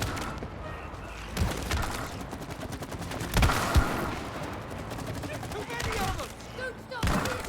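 Rapid bursts of video game gunfire aimed at creature nests, loud and sustained in dense volleys with heavy thuds, while voices talk over the shooting.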